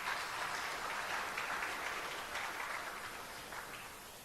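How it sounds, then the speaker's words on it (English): An audience claps steadily at a cricket awards ceremony, a dense, even patter of many hands heard from a distance that fades slightly toward the end. "Please give him a round of applause."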